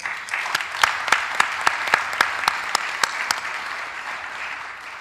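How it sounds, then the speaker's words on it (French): Audience applause fills a formal ceremony hall, a dense steady patter of clapping with a few sharper, louder claps standing out near the front, fading slightly toward the end. "que vos applaudissements l'accompagnent"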